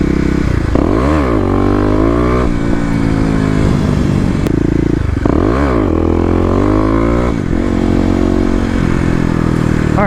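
A Kawasaki KLX250 fitted with a 13-tooth sprocket, revving hard in a mall parking lot with rising and falling engine sweeps, loud and close throughout, with clattering drivetrain noise between the revs.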